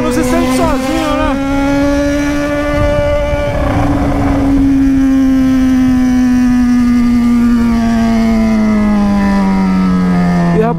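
Yamaha XJ6 motorcycles with straight-pipe exhausts, loud and close, one engine note climbing steadily as it accelerates, briefly layered with another bike's rising whine early on.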